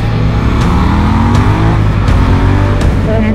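A 90 hp twin-cylinder motorcycle engine revs hard and loud up close, its pitch sweeping up and down through several throttle blips with sharp gear-change pops and no talking.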